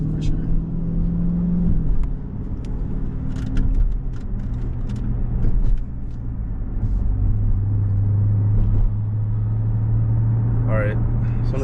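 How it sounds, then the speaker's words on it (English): A car rumbles past on a winding road, its engine hum building and then steadying, heard from inside another vehicle while people talk over the sound. "as soon as this car passes"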